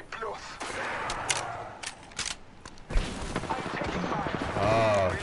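Bursts of gunfire in a PS4 shooter game crack and boom in quick volleys with a heavy blast near the middle, set against constant battle noise.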